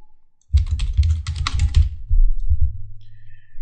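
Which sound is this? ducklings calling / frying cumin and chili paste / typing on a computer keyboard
typing on a computer keyboard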